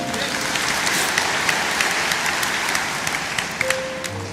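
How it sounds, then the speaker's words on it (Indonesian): A church congregation applauds during a Christmas worship service, a sustained wash of clapping from a large crowd with a faint tone and scattered louder claps throughout. "Berikan tepuk tangan untuk Tuhan."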